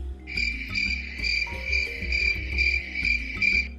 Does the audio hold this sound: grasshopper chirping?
yes